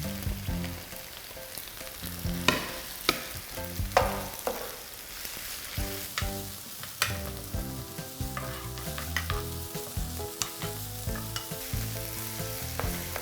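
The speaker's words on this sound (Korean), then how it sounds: "그래서 들쩍지근한 달콤한 맛을 내주는 양파를 볶고 있습니다." Sliced onions and thinly sliced garlic stir-fry in a pan, with a steady close sizzle broken up by repeated scraping and clacking strokes of the stirring utensil throughout.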